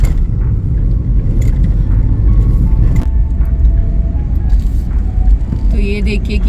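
A steady low rumble of road traffic fills a car queued at a toll on the Mumbai Pune Expressway, with engine drone and small rattles close inside the cabin.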